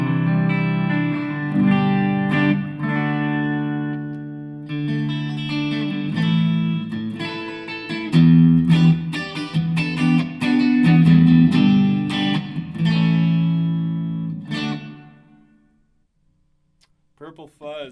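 A clean, bright electric guitar through a Fender Mustang amp plays chords and single notes with a touch of reverb, ringing out steadily before fading to near silence at the end.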